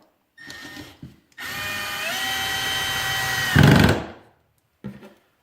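A power drill whirs in short bursts, then runs steadily and bogs down as it bites into wood, drilling holes for a short drawer, ending with a brief final spin.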